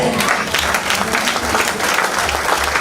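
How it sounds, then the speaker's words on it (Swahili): A church congregation gathered for a New Year overnight service claps together in dense, loud, sustained applause, close and continuous throughout with a faint crowd murmur beneath. "Tupigie dada huyu makofi"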